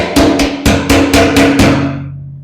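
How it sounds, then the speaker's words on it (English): Six sharp metallic hammer blows on a metal pump lock in a steady rhythm, close and loud, each ringing briefly before the last fades out. "So you just hammer on it"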